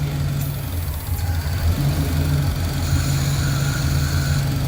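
A 1966 Pontiac Catalina wagon engine idles steadily, a low, even rumble with a constant hum and faint mechanical whir, heard close and alone without any talking.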